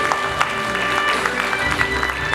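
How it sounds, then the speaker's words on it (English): Audience applause at a national stakeholders forum in Davao City, Philippines: dense, steady clapping from a crowd filling the whole moment at a fairly loud level. "Let's give them a big round of applause here."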